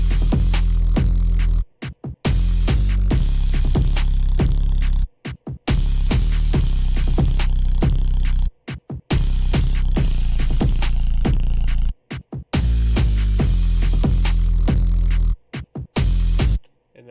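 A programmed trap-style drum beat with hi-hats, crashes and a booming 808 bass all playing together in a loud, steady loop, with short gaps of silence where the pattern drops out.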